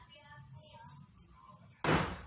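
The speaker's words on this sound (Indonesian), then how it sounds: "Ketika sudah terdengar suara tersebut, itu tandanya buahnya sudah terbuka." A santol (kecapi) fruit squeezed between a closing door and its frame cracks open with one sudden, loud, sharp burst near the end, after a stretch of quiet room sound with faint voices.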